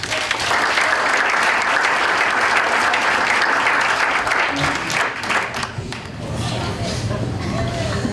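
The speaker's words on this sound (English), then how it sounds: "How about a nice round of applause for Jared Holmes." A hall of fame induction audience applauds an inductee with loud, dense clapping from a large crowd that holds steady for several seconds, then thins and tapers off near the end.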